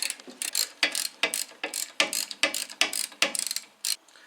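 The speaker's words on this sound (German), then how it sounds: "Die Schrauben zieht er jetzt mal so weit an, wie es mit der Hand geht." A Porsche 944 brake caliper's screws are hand-tightened with a ratcheting tool: rapid, close, crisp ratchet clicks in a dozen short bursts with brief pauses between them, and no talk.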